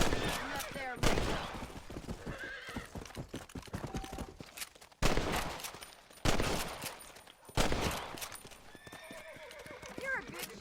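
Sharp rifle gunshots in Red Dead Redemption while hunting rabbits, several loud single cracks spaced seconds apart, mixed with horse whinnies and clip-clopping hooves and voices talking.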